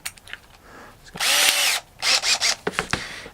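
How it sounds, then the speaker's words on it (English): A power drill bites into plastic in several bursts: one long whine, then a few shorter stop-start runs, close and loud. "We're going to drill 2 holes here"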